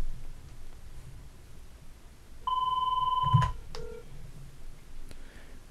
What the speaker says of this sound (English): I'm going to call my extension, which is 103.